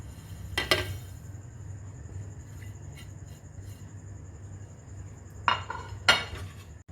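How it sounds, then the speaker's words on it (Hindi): Dry vermicelli (seviyan) goes into a cooking pan with a few sharp metallic clatters and clinks, separated by a quiet stretch of low background hum. "अब इसमें हम सेवइयाँ ऐड कर देंगे।"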